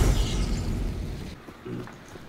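A loud explosion in the video game Hunt: Showdown opens with a heavy boom that rumbles and decays over a couple of seconds, followed by a smaller thud.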